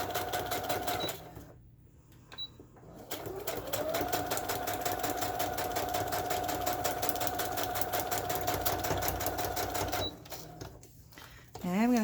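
Sewing machine running a straight stitch through coffee-dyed parchment paper, a rapid steady whirring with rhythmic needle clatter, stopping briefly at the start and near the end.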